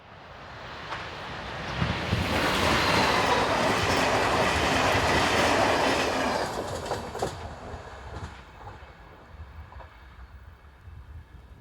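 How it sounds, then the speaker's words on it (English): A Hungarian Class 480 Bombardier Traxx P160 AC electric locomotive hauls an eastbound passenger train past, swelling to a loud rumbling roar with rhythmic wheel clatter, then fading into the distance. "Class 480s are Bombardier Trax P160 AC locos purchased in 2011. Here number 20 heads east with the 930 from Budapest."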